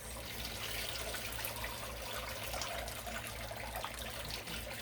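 Water squeezed by hand from freshly washed Wensleydale or Gotland wool fleece locks, a steady close wet trickle and drip running throughout with no talk.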